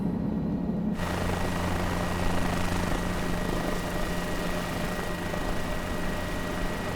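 A Guimbal Cabri G2 helicopter flying in gusty wind in Flight Simulator 2020, giving a steady, loud rotor and engine drone with constant hum that shifts to a broader roar after the first second.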